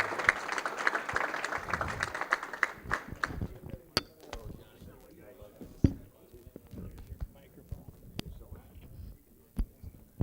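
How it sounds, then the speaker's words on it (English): Audience at a college of auctioneering student auction clapping for a vice president called to the front; a burst of applause fades after a few seconds, leaving sparse claps and murmuring voices. "How about a round of applause for this man?"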